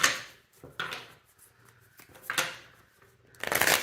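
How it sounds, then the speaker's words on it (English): Tarot cards are shuffled in three or four short, crisp riffling bursts up close, with quiet pauses in between. "And let's do a quick shuffle for the next pile"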